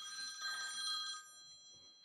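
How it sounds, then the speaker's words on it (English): A telephone rings with a bright electronic trill for about a second, then fades, heard faint and alone. "That was my phone ringing"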